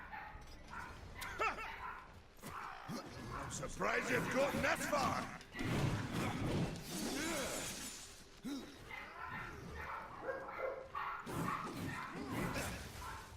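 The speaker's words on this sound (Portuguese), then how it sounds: "E agora tem uma caralhada de cachorro latindo" Several dogs barking in a noisy overlapping burst, mixed with loud video-game sound effects from Darksiders II, with someone talking over the top throughout.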